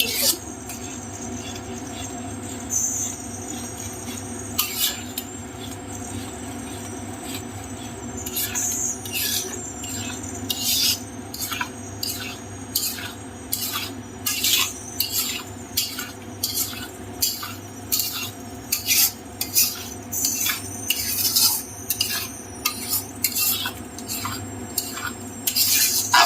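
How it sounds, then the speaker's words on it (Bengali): A spoon scrapes and knocks against a pan as olive chutney is stirred and dried out, making repeated close, clattering strokes that grow quicker and more regular toward the end over a low kitchen hum. "এবার নাড়াতে নাড়াতে আমরা শেষ পর্যন্ত শুকিয়ে ফেলবো।"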